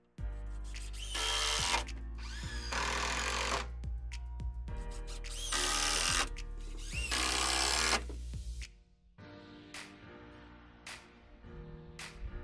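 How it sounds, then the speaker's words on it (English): A power drill drives coated screws through a shed's floor plate into the floor joist below, several close bursts of whirring motor, each ending as a screw seats, then lighter drilling and clicks. "screw our floor plate into our floor joist below"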